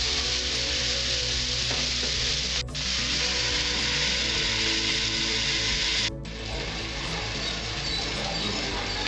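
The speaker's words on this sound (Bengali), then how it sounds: "এবার আমি এগুলো ভালো করে ভেজে নেব ঢাকা দিয়ে দিয়ে।" Mixed fried rice ingredients frying in a covered pan, a steady dense sizzle running throughout, with two brief gaps where the lid or pan shifts.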